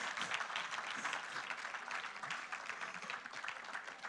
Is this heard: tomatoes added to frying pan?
no